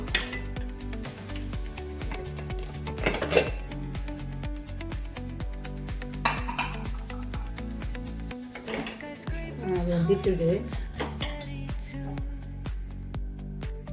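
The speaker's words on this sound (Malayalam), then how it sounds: "ഇനി നമുക്ക് കുക്കർ തുറന്ന് നോക്കാം" Metal pots, lids and utensils clink and clatter in a home kitchen as a pressure cooker of dal curry with drumstick leaves is opened, with irregular knocks and rattles over a steady tonal background.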